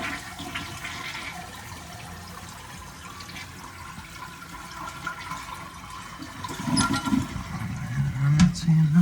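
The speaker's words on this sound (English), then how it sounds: "Flush number 2." A household toilet under repair for a mystery leak flushes with a long, steady rushing swirl of water close by, swelling louder toward the end as the bowl drains and refills.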